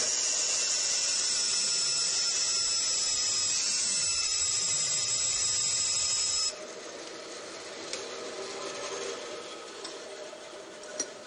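A bandsaw working on wood for a squirrel-proof suet feeder, a steady high-pitched mechanical whine for about six seconds, then stopping, followed by quieter workshop handling noises and light clicks.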